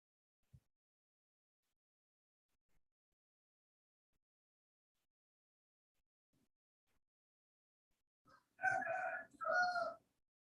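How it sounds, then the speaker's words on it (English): A rooster crows twice in close succession, fairly near and clear, after several seconds of near silence broken only by a few faint knocks. "Dr. Christine, it seems that I heard the sound of chicken and also dogs"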